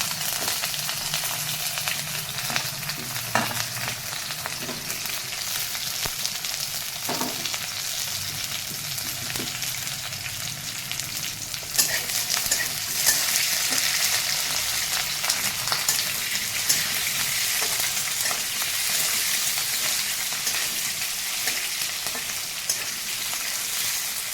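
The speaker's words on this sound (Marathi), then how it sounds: "आता हे आपण तळू दे. हे आपलं छानपैकी तळलेलं आहे." Tomato, chopped chili and onion frying in a pan for homemade pulao made with ration rice, giving a steady dense sizzle throughout with faint clinks, growing brighter and louder midway.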